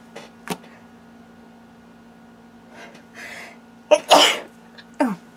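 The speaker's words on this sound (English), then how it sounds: "I have to sneeze." A woman sneezes during a craft supply haul: a couple of soft breaths and small noises come first, then one loud, sharp sneeze near the end, followed by a brief voiced exhale, with quiet room tone between.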